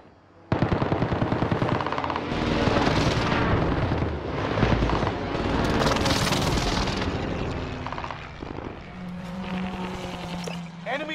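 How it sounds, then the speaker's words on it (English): Precision airstrike explosions and heavy automatic gunfire fill a video-game battle. Dense, loud bursts of blasts and rapid fire roll on continuously and fade slightly toward the end. "Allied precision airstrike incoming."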